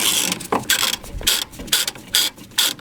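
Ratchet wrench loosening a screw, likely a 17 mm, on a Peugeot 205 GTI being stripped for bodywork: several short bursts of rapid metallic clicking, close and fairly loud, separated by brief pauses, with no talk.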